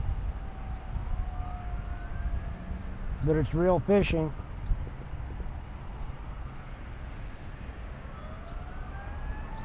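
A faint, distant siren wails over wind, traffic and outdoor rumble at a pond, while someone speaks briefly in the middle.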